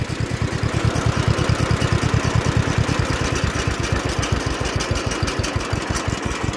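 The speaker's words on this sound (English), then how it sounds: "Real neat little tractor. At least I can get to idle here once." John Deere LI tractor with a flathead two-cylinder engine idles close by, a loud, even chugging pulse that is steady and rhythmic throughout.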